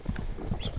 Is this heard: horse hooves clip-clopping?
yes